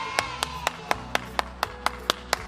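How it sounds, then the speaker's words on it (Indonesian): During an online children's church service, hand claps ring out in an even, rhythmic series of about ten sharp, close claps, apparently from a single person rather than a crowd. "Tepuk tangan yang meriah."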